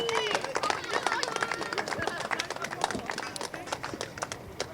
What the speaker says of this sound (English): Huge round of applause for Albert Friend.